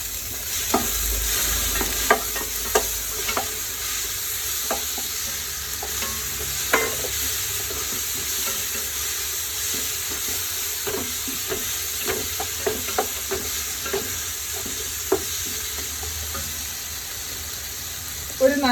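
Curry leaves and bay leaves frying in a pan of oil for chicken biryani, a continuous close sizzle with many sharp spatula stirs and scrapes scattered throughout, and a louder clatter at the end.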